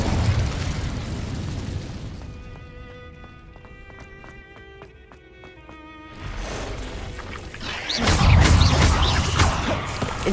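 Incendio fire spells blast in Hogwarts Legacy as loud, roaring whooshes at the start and again in a longer, stronger burst later, with chiming, tonal game sounds ringing in the quieter stretch between.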